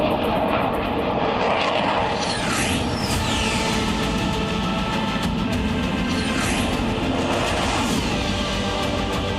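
A Rafale Marine fighter jet roars loud and close, a continuous heavy engine rush with sweeping pitch shifts as it passes.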